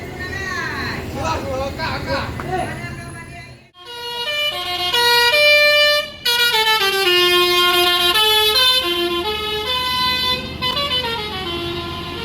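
Bus with a Basuri v3 telolet musical horn, bound for Jakarta, plays loud stepped melodic horn tunes close by, with a pause and a short break between phrases over engine noise.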